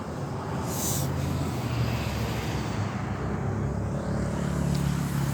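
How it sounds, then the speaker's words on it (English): A big truck drives past on a road, a loud steady low rumble with broadband road noise that fills the whole stretch, close and continuous without a clear rise or fade. "Got a guy coming from the hardware store in his big truck."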